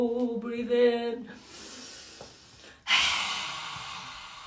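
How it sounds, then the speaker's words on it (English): A long, audible breath drawn in during a qi gong exercise, rising into a strong airy inhale near the end, following a short tonal sound at the start. "Breathe in."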